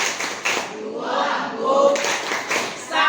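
Schoolchildren in a classroom clapping a rhythmic class clap chant, short bursts of hand claps alternating with their voices chanting along, close and lively.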